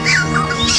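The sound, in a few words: yellow-rumped cacique (japim) call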